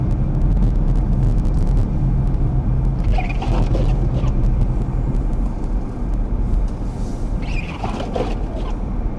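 A car drives through a winter storm on snowy Western Pennsylvania roads near a steel mill, giving a steady, loud low rumble of engine and road noise with faint slushy hiss, no talking.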